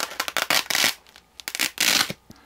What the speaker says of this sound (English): This side that you stick to it so that when you pull it apart, it makes that little funny sound like this.